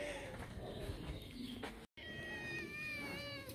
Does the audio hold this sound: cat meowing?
yes